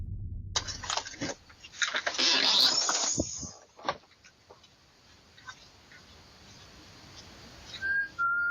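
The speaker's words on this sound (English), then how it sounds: "of someone whistling is heard clear as day on camera" Someone whistles, caught on a camera recording, in a few short, thin whistled notes that stand out from noisy, rustling background sound, the clearest near the end.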